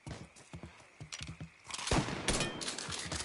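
Shotgun blasts and other gunfire in the video game Mafia III, a few loud booming shots coming after a stretch of rhythmic hoof-like thuds, with the firing growing dense and chaotic toward the end.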